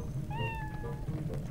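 Cat in the video game The Legend of Zelda: Twilight Princess, set in Thelma's tavern, giving a single clear rising-and-falling meow over a low game background hum.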